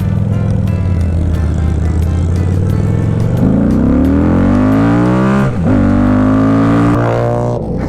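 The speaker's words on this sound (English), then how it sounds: "an hour to get Moto to turn on his fucking bike" Old motorcycles rev close by with loud, throbbing engine notes that rise in pitch as they pull away, one dipping briefly before climbing again.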